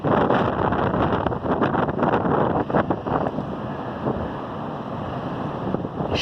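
Strong coastal wind buffets the microphone over crashing surf at Lincoln City during a king tide with building swell. The roar is steady and loud, with gusty rumbles and no voices.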